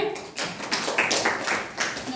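Children in a classroom clap together, a few short bursts of close, uneven clapping with voices mixed in.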